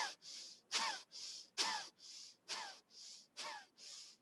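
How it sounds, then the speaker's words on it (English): Deep, rhythmic breathing during a guided healing exercise, with five sharp inhales alternating with softer, airy exhales at an even pace, close and clear. "So you can hear the breathing is different."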